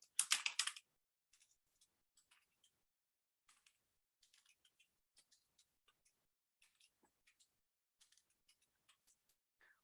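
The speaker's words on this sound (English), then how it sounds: "let me just type in" Quiet, close typing on a computer keyboard: a brief louder burst of keystrokes at the start, then sparse, irregular light clicks spread across the rest with pauses between them.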